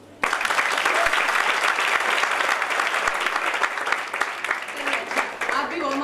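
Audience applause at a youth ideas event with a chief guest, a dense sustained clapping from a large crowd that starts abruptly, holds steady for several seconds, then thins toward the end as a voice begins speaking.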